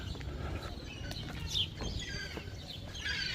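Seagulls call on Rome's Aventine hill, a few thin, brief cries at moderate distance over a low outdoor city hum.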